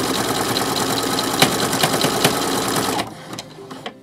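A sewing machine zigzag-stitches braided strips of old bedsheet fabric into a rug, running in a fast steady mechanical whir close by, then stopping abruptly near the end, leaving a few faint clicks.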